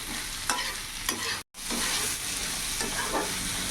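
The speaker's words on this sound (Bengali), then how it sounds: "এইভাবে এখন 2 থেকে 3 মিনিট একটু ভাজা ভাজা করে নেব" Bitter gourd and small fish frying together in a pan for a Bengali chochchori give a close, steady sizzle with scraping stirs, broken by one brief silent gap partway through.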